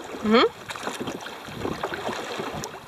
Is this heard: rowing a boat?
yes